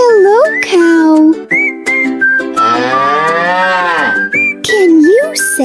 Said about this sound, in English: Who says moo? Do you know, friends? It's a cow!